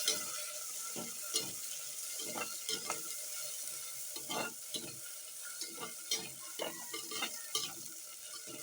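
Tomato, onion and garlic frying for a fish curry, stirred steadily in a pan: a constant quiet sizzle with rhythmic scraping strokes about once a second, fairly faint and close.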